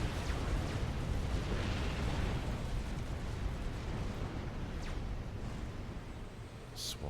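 Explosions and artillery bombardment in the strategy game Supreme Commander FAF merge into a continuous rumbling barrage, fairly soft and distant, with dense overlapping booms and faint commentary talk mixed in.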